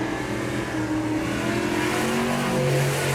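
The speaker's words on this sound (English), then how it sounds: "Dylan Barrett rolling out in the number 41 automobile." Number 41 race car rolling out onto a track, its engine giving a continuous loud revving drone with rising and shifting pitch, close and steady for the whole stretch.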